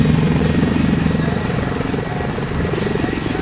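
Mi-8 helicopter rotor during a solo flight demo at the Sochi Invitational gives a steady, loud, throbbing drone with a constant chopping pulse under a voice talking throughout.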